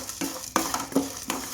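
Coriander seeds and spices dry-roasting in a pan with a few brisk stirring scrapes spaced about every third of a second, over a faint steady sizzle, close and fairly quiet.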